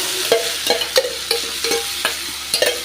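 Sautéed ingredients for tamarind poha upma sizzle in a pan, with regular scraping strokes of a spoon stirring them about every third of a second, close and clear.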